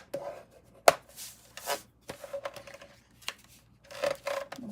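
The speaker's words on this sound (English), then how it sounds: "I'm going to go ahead and take my bone folder" A bone folder is rubbed firmly across folded cardstock for a pop-up gift bag card, giving short, quiet swishing strokes and a few sharp taps, close by and alone.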